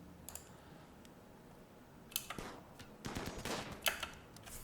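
Gunfire in the RimWorld video game, a series of small, light pops and clicks that grow denser toward the end, fairly faint throughout.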